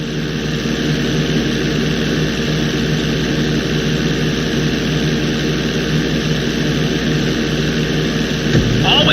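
A steady, loud aircraft engine drones without pause in GTA V, a propeller plane roaring continuously as it builds power on the runway for takeoff, with a brief low thump near the end.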